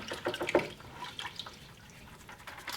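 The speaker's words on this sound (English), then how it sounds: "So I'm going to wash my brush." A paintbrush is swished and rinsed in water, giving soft, close, faint dripping and sloshing splashes in a few short bursts.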